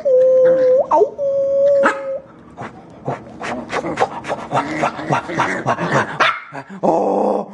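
A young dog yips, barks and growls excitedly in rapid bursts, with a high whining howl at the start, close and loud.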